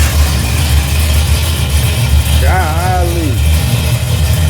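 A car engine with a rebuilt Holley carburetor idles steadily after a cold start, a constant low rumble running through the whole clip while a man exclaims briefly partway through.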